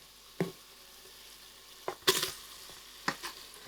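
Marinated mutton pieces going into a pressure cooker, heard as a few separate soft thuds and clatters with a brief sizzle, spaced out over quiet background and not in a steady rhythm.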